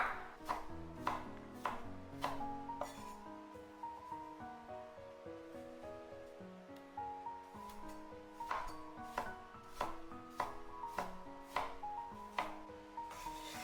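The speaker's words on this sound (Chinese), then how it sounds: "准备一个新鲜的西红柿，把中间的硬心给它去掉不要，然后切成小块" A knife chops a fresh tomato into small pieces on a cutting board, with quick, crisp, evenly spaced taps coming in bursts and short pauses between runs, under soft background music.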